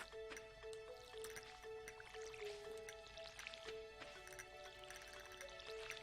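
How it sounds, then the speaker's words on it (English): Faint dripping and trickling water plays as plants are watered with a watering can in the video game Stardew Valley, with soft splashes over a quiet background tune and no talk. "Okay, let's water our plants."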